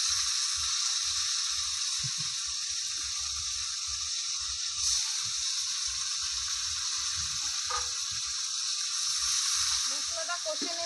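Spice paste (masala) fries in a pan with a continuous high hissing sizzle, steady and moderately loud, while a voice talks over it.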